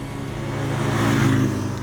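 Bajaj Pulsar 250 motorcycle engine revving with a deep, refined exhaust note, a steady close rumble that swells slightly mid-way and holds without talk.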